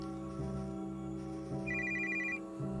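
A telephone rings in a video game with steady electronic rings that repeat about once a second over an ambient game background.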